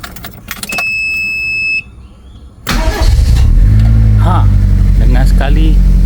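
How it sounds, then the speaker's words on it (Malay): A car with a portable jump starter clicks and beeps and goes quiet, then the engine cranks and catches into a loud, close idle, with someone talking over it. "enjin pun hidup"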